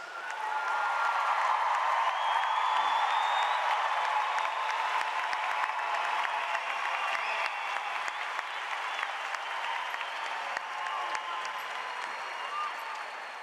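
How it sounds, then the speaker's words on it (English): Commencement audience gives graduates a sustained round of applause, dense continuous clapping from a large crowd that stays loud and even, tapering slightly toward the end. "would you please join me in one more round of applause for our graduates?"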